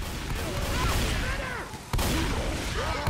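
Rapid video game gunfire with booming shots and dense layered effects, continuous and loud over the whole stretch, with a brief dip and a fresh burst midway.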